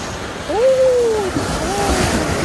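Ocean waves wash in at Bolinao Beach in the early morning. A steady surf hiss mixes with wind, and a brief tonal vocal sound rises over it.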